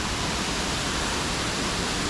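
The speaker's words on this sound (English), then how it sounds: "look at this waterfall. Just sitting right there, smack in the middle." An indoor waterfall in an airport roars with a loud, dense, unbroken rush of falling water that fills the space evenly.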